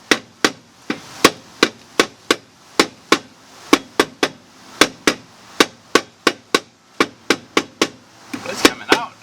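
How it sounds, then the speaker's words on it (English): Repeated sharp hammer blows striking a rusted wheel stud on the rear brake drum of a 2010 Nissan Versa, about twenty steady metallic hits close up and loud, with no talk over them. "I have to hit the stud."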